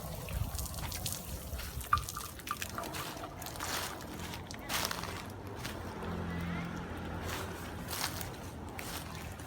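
Water splashes and trickles steadily while an elephant is bathed outdoors, with dripping and sloshing throughout and faint voices in the background.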